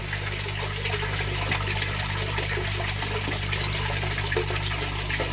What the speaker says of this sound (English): Done that water change, put some salt in.